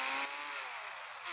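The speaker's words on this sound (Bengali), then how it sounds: "এখন লুই এই বাইকে যাবো।" Video-game motorcycle in Indian Bike Driving 3D, its engine a loud, steady buzzing whine that holds for just over a second with a slight dip in pitch partway through.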